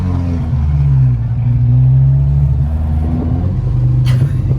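A Datsun Sunny Truck with a low exhaust idles and drives, producing a loud, steady low rumbling drone with a slight rise in revs, close up, no talking.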